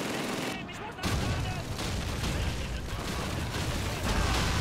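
Dense, continuous gunfire from the Call of Duty 2 Stalingrad assault, a loud unbroken barrage of rapid shots with booming impacts, briefly dipping before surging again.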